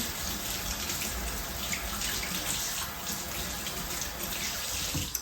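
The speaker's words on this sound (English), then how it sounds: "I'm gonna wash this fork off" Water runs steadily from a tap into a sink as a fork is washed, splashing throughout, with a faint clink near the end.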